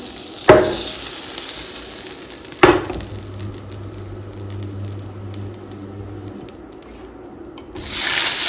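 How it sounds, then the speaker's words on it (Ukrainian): Lavash frying in oil, a steady sizzling hiss throughout, with two sharp clunks near the start and a low hum in the middle. "І так само по колу смажимо інші лавашки. Додаю масло."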